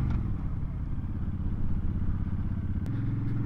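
A Honda Fury motorcycle's V-twin engine pulls hard up close, a loud steady throbbing roar that lifts in pitch as it accelerates, then shifts briefly near the end.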